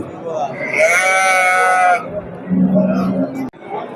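A ram and ewes with lambs bleat loudly in a long, wavering cry, followed by a lower bleat, with faint voices murmuring in the background.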